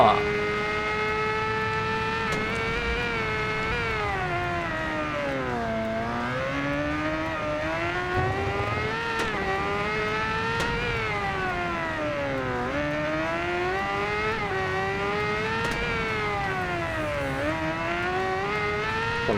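Kawasaki Ninja ZX10R superbike engine held at full throttle in the racing game Ride 2, a loud continuous high-revving whine rising and dipping steadily through gear changes for the whole stretch.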